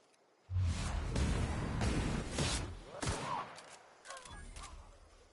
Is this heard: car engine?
no